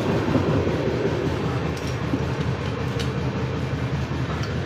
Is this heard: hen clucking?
no